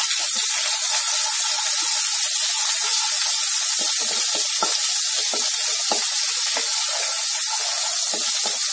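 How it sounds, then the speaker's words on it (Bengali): Ginger paste sizzles hard in hot oil left over from frying rui fish, giving a dense, steady hiss with scattered crackles and pops throughout, close and loud with no talking. "এবার ওই তেলের মধ্যে আদা বাটা দিয়ে দিলাম।"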